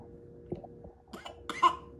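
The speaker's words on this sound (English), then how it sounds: "I'm not too worried when she coughs." A baby at about twelve months old gives a few small, soft coughs and throat noises in a quiet room, spaced irregularly over about two seconds.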